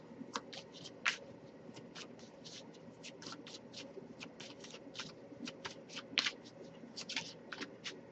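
Rapid, crisp riffling and flicking of tarot cards being shuffled, a quick series of papery snaps at close range, with no one speaking.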